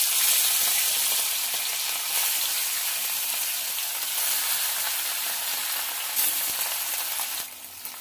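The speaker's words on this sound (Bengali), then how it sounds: "এবার হলুদ লবণ মাখানো মাছটা ভেজে নেব" Rui fish coated in turmeric and salt fries in hot oil in a kadai, making a loud, continuous close sizzle with faint spits and pops that eases slightly near the end.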